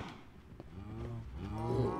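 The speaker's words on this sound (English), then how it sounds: "That's a lot of cows in one hole." Several cows mooing in the block-building game Minecraft, long, low, overlapping moos swelling one after another and growing louder toward the end.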